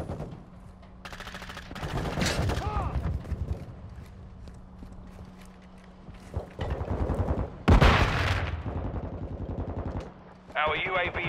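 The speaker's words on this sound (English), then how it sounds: "Hostile mortar strike incoming." Call of Duty: Modern Warfare II mortar strike amid gunfire: sharp blasts and bursts of shooting punctuate a busy battlefield, with a loud impact near the middle and radio-style voices talking over it.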